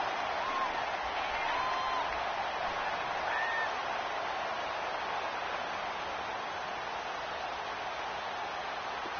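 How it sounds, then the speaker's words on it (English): A stadium crowd roars at a Madden 19 football video game, a broad steady wash of noise held at an even distance, with faint tonal calls near the start. "the crowd getting into it as we come up on a big 3rd down"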